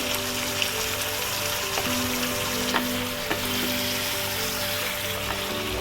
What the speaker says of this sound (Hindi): लहसुन में अच्छे से भूनने देंगे मटन को।